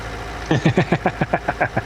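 A tractor engine in Farming Simulator 19 kicks in after a short pause and chugs in a steady, rhythmic pulse of loud, even beats, with no talk over it.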